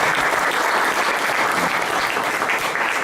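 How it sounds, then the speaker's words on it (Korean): Audience applause after a five-minute startup pitch at a venture forum, a dense burst of clapping that continues steadily for about three seconds. "일단 발표해 주실 대표님께 큰 박수 한번 부탁드립니다"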